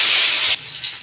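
Cumin seeds, dried chili and ginger paste hit hot oil with a loud, bright hissing sizzle that drops off sharply midway, then flares briefly again before fading.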